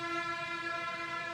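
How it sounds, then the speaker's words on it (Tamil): A train horn blares in one steady, unbroken blast that lasts the whole moment, with no voices over it. "ஹாரன் சவுண்டு வந்துடுச்சு."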